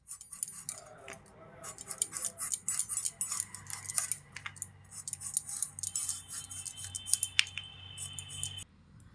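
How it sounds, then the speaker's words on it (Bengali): Radish skin being peeled in thin strips on a bonti blade, with soft repeated scraping and small clicking cuts running steadily up close and fairly quiet. "এবার খুব ছালে ছালে মূলোর গা থেকে খোসাটা আমি ফেলে দেব।"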